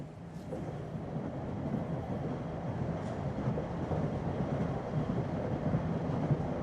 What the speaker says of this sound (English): Agnes is silently watching the geography of America changing in the silver-framed train car window